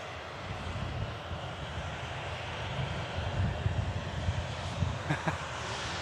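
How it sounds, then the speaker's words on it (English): Egypt Air jet climbing out after takeoff, bound for Cairo, a steady distant engine roar with a slight wind rumble, swelling gently toward the end. "Gear up on the Egypt Air as it flies back out to Cairo in Egypt"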